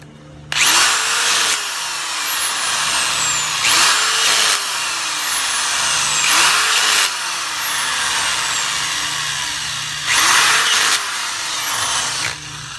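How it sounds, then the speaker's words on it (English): A calibrated driver tightens pump assembly screws in a crisscross pattern, giving four separate whirring bursts that rise in pitch, each about a second long, with quiet pauses between them and no talk. "we're going to tighten them up in a crisscross manner to 28 to 30 inch-pounds, which this driver is calibrated to."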